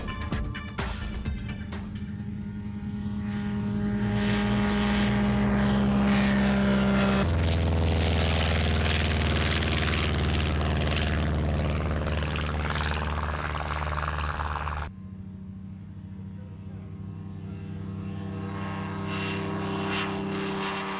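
Propeller-driven light aircraft flying at a British airshow rally in 1999, a sustained, loud engine drone whose pitch and intensity shift as the planes pass, with no talk over it.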